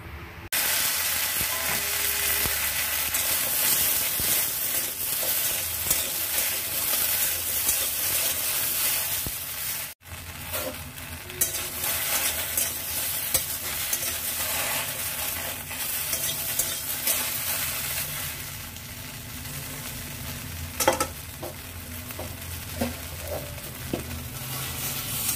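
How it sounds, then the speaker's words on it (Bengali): Okra fries in a wok with a little oil, giving a loud continuous sizzle. Repeated stirring scrapes run through it, with a brief break partway through. "কড়াইতে যেটুকু তেল আছে তার মধ্যে ভেন্ডিগুলো দিয়ে বেশ কিছুক্ষণ নাড়াচাড়া করে ফ্রাই করে"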